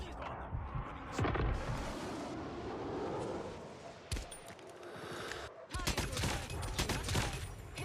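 Call of Duty Mobile gunfire erupts in sharp bursts and rapid volleys, with dense crackling exchanges layered over a busy game mix and muffled voices underneath.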